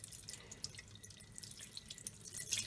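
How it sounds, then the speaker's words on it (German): Water dripping and trickling into a sink while a silicone baby doll is washed with warm water, a quick irregular patter of small splashes close by, rising slightly at the end. "Gerne mit warmem Wasser, fühlt sich einfach auch dann schöner an. Und dann einfach nur abwaschen."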